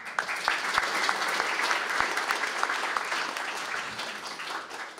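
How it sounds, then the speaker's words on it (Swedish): Audience applause during a live Swedish broadcast, a full crowd clapping with distinct sharp individual claps standing out, sustained and fairly close before gradually thinning toward the end. "Kan hon få en applåd av honom?"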